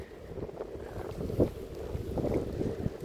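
Wind gusts buffet the microphone outdoors, producing a low, uneven rumble that swells and fades over a few seconds at a moderate level.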